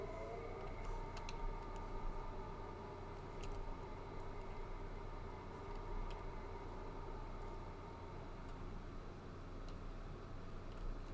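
A train departing in a video game rumbles with a steady low drone and a faint whistle-like tone, occasional clicks of wheels over track, fairly quiet overall.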